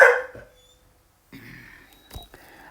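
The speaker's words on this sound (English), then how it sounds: "Pardon the dog barking in the background." A dog barks in the background: a loud bark at the start, then softer, scattered barking and yips later, with no talk.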